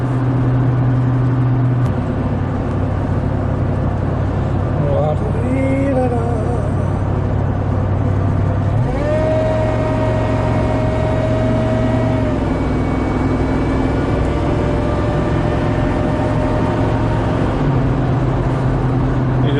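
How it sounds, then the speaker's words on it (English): An old supercharged Harley truck drives along with a steady engine drone, then revs up and accelerates, its pitch climbing before settling into a sustained cruise. "Tell this old supercharged Harley truck that you want to go, and it goes"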